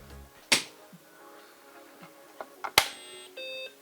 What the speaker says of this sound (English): find out if we get the twin level beep